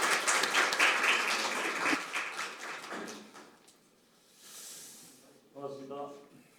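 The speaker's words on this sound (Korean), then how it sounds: "여러분 큰 박수 부탁드립시오." At a public hearing, a seated crowd gives a brief burst of applause for an introduced actor, which tapers off quickly and is followed by a voice speaking over faint room noise.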